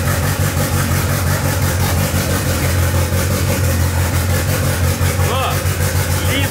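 A car engine runs steadily at close range, a loud continuous rumble with a faint rising whine near the end.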